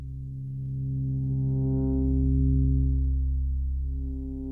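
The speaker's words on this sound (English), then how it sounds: "So now we kind of have a bed of bass going." A deep, buzzy Eurorack modular synthesizer bass drone sustains with rich harmonics, its upper tones slowly opening and closing like a filter sweep, no voices present.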